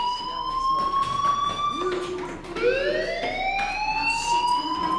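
A fire alarm rings in the video game Life is Strange: a steady, loud electronic tone that holds throughout, then restarts at a slightly higher pitch partway through, with no talking.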